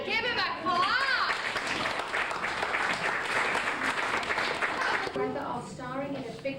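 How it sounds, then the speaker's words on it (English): Studio audience applauding at a television studio tour, a dense burst of clapping that rolls on for several seconds before fading as a voice begins speaking. "Give him a clap!"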